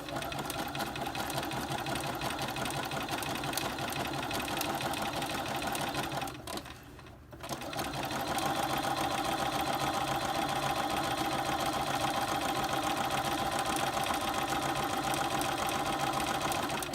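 Sewing machine stitching a Bristol casing runs in a steady, close mechanical whir, pausing briefly partway through before resuming at the same even pace.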